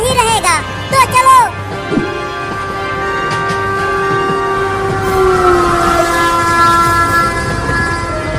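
Cartoon train passing, with sustained blaring horn tones over a steady rumbling roll of wheels, loud and close, and brief voices near the start.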